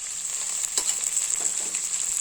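A steady sizzle of onions sautéing in hot oil, with occasional soft stirring scrapes, close up and continuous with no talking.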